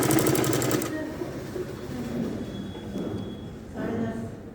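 A sewing machine runs in a steady burst at the start while stitching a suit or kameez, then fades to quieter handling sounds, with a second short run near the end.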